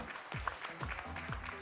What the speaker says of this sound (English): give him a round of applause as he leaves the stage